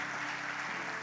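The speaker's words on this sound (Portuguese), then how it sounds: "Aplauda o Senhor." Applause from a church congregation for a newly married couple, a dense, even burst of many hands clapping at once, heard up close and steady over the brief moment.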